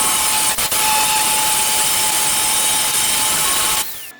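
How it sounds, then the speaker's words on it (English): An angle grinder smooths welds on the bodywork of a 1968 Pontiac GTO during a shaved, flush front windshield job, giving a loud, steady, high-pitched grinding whine that runs for almost four seconds and then cuts off. "now I have to grind all my welds smooth"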